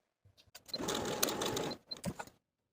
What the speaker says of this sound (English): take it to your machine and sew from the outside of the dart to the point